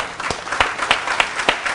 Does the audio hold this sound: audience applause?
yes